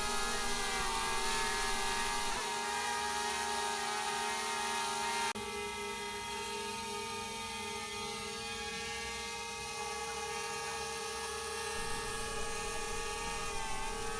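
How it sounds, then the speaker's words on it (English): A DJI Mavic Air drone hovers with a steady high-pitched propeller whine, constant and fairly near throughout, with no talking. "decided to fly it over the gutter to see if I could recover the drone"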